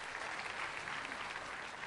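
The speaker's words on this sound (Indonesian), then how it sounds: "Berikan tepuk tangannya buat Tuhan Yesus." Church congregation clapping during a sermon, a brief, dense wash of applause that is steady and moderately distant.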